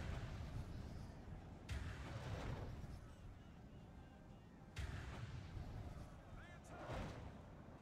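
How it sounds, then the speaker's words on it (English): Artillery fire in the Total War strategy game Third Age: Divide & Conquer, with heavy booming reports landing every few seconds over a dense rumbling battle din. "Start firing again, Blister."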